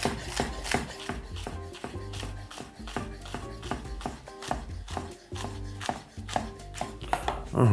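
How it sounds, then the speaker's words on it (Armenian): Lettuce leaves sliced into strips with a knife on a board, giving a run of quick, even chopping taps close by, with no talk. "մարուլի տերևները կտրատում ենք"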